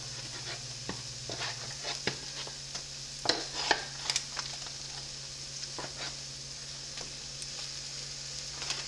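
King's Hawaiian rolls dipped as pumpkin spice French toast fry in butter in a pan, a steady close sizzle with scattered pops and a few clinks, no talking.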